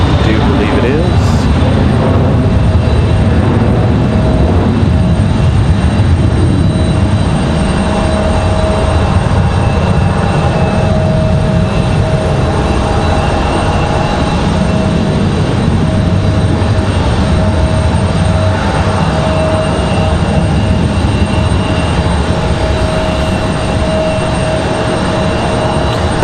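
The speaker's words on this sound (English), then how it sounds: "Little surprise departure. Looks like a MAX 8, possibly." A Southwest Boeing 737 MAX 8 departs from Raleigh Durham airport, a loud, sustained jet engine roar holding steady throughout, with someone talking over it.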